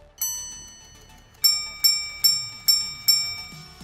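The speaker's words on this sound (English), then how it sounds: "The so-called jumping hours along with a chiming minute repeater. It plays different melodies depending on the time." A luxury watch's minute repeater chimes a bright, high melody: one opening strike, a pause, then five evenly spaced ringing notes with long shimmering decay, clear and close in a quiet room.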